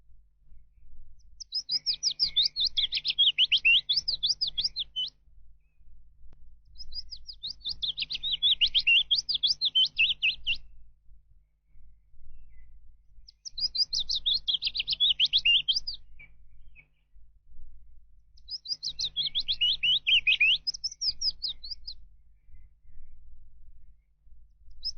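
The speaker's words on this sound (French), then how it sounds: "C'est du sommet d'un arbre que descendent les longues modulations d'un pouillot fictif." Warbler song pouring down from a treetop: four long, modulated, high-pitched phrases a few seconds each, separated by short pauses, clear and moderately loud with faint low background rumble.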